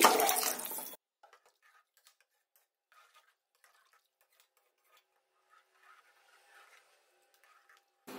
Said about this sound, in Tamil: இப்போ தண்ணி ஊத்திடலாம்.